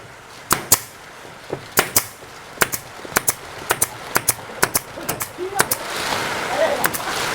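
Nail gun shooting fasteners into ceiling board during drywall ceiling work, a series of about a dozen sharp, close snaps in irregular rhythm, with faint room noise between shots.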